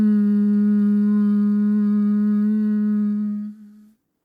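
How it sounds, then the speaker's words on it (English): A steady, low throat hum is held while breathing out through the nose, one long, even tone that fades and stops after a few seconds. "as you exhale, create this hum in your throat"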